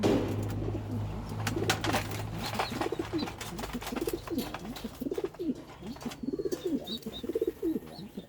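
Racing pigeons coo repeatedly in a loft, soft rolling calls overlapping in an irregular rhythm at close range, with a low steady hum beneath them.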